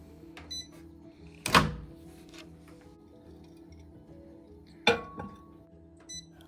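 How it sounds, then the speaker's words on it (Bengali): A bowl going into a 900-watt microwave oven: a loud close clunk, faint ticking clicks as the timer is set, then a second solid clunk over a low steady hum. "এবার বাটিটিকে আমি মাইক্রোওয়েভ ওভেনের মধ্যে দিয়ে দেব।"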